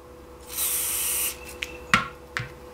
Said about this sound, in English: all I did was I sprayed just a little bit on the seam